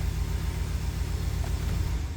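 Ram 1500 pickup engine idling just after starting, a steady low rumble heard from inside the cab, fairly quiet, with no talk.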